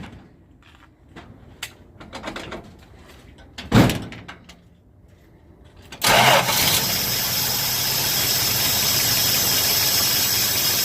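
Car with a newly installed Pertronix Ignitor: faint clicks and a door thud come first, then the engine fires abruptly and holds a loud, steady idle close by.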